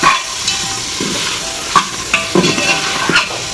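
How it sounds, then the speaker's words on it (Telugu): Country chicken pieces frying in oil for pulao, a loud, close, steady sizzle with repeated spatula scrapes and stirring knocks scattered through, no voices. "ఇప్పుడు మనం కొద్దిగా ఆయిల్ వేసుకున్నాం కదా ఆయిల్లోనే మంచిగా ఫ్రై చేసుకోవాలి"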